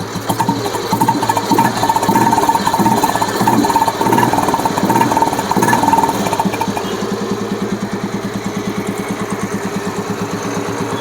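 A 1999 Royal Enfield Bullet motorcycle engine runs steadily nearby, a loud throbbing putter that revs slightly higher early on before settling into an even idle.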